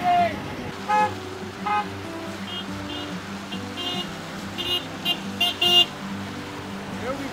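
Car horns honk repeatedly along a road during a honk for Palestine, short toots and longer blasts heard at a moderate distance over engine and traffic rumble, with people talking throughout.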